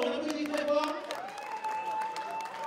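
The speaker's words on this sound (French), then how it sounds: "Bravo, on applaudit très fort." An audience at a fiftieth-anniversary celebration for Chad applauds steadily while voices and a tonal vocal line ring out over the clapping, which carries on underneath.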